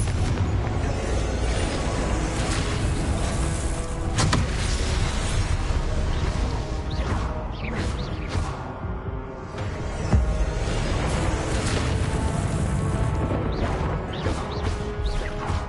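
Repeated Confringo blasting-curse explosions in Hogwarts Legacy, a dense run of loud crashing booms and bursts that roll on continuously with no gaps.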